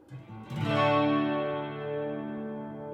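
One clean chord is struck on a Donner HUSH-X headless electric guitar with passive pickups and left to ring, sustaining and slowly fading with a slight shimmering effect.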